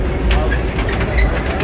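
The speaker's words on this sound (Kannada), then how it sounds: "ಉಸ್ಕೂರಿಗೆ ಟ್ರೈನ್ ಬಂದ್ಬಿಟ್ಟಿದೆ." A train pulls into Huskur station during a festival, its low rumble and clatter running close beneath loud talking.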